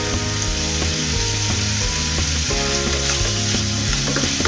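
Pork and Baguio beans frying in a pan for a sautéed dish, a loud, steady, dense sizzle with occasional stirring clatter, close and continuous, no voices.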